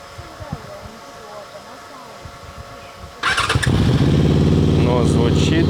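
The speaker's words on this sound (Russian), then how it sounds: "Включаю зажигание. QG Motor." A QG Motor motorcycle starts up after a quiet stretch with faint background voices; the engine catches abruptly and settles into a loud, steady idle with a rough, buzzy tone.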